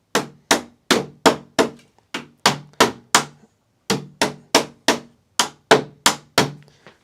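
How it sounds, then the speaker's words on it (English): Hammer blows strike repeatedly in a steady rhythm, about twenty sharp close knocks with a short pause partway through, heard alone with no talk, during hardware work on a door. "Hammer."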